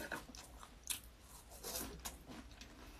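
Crunchy dessert snacks, garlic baguette-flavored chips and Home Run Ball cookies, are bitten and chewed close up in quick, irregular crunches, with no talking.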